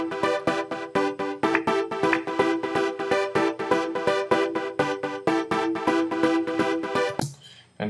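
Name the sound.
house music breakdown part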